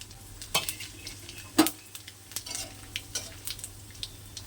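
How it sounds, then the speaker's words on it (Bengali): Whole cumin, dried chillies and bay leaves sizzle quietly in hot oil, with a few sharp clinks and scrapes of a utensil against the pan scattered over the low crackle. "একটু ভাজা হয়ে গেলে গোটা জিরে, শুকনো লঙ্কা, তেজপাতা দিয়ে দিলাম"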